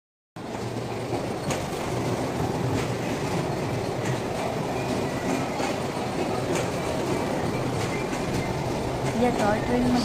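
Toy train ride at the Babyland children's amusement park in Bhadrawati: a steady rumble of rolling wheels with soft clickety-clack runs throughout, close and continuous, with voices talking over it.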